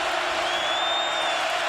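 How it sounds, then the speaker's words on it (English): Dense, steady roar of a noisy stadium crowd at a Texas versus West Virginia college football game in Austin, loud and continuous with faint whistling cheers and murmur throughout. "Crowd is alive. It's noisy here in Austin."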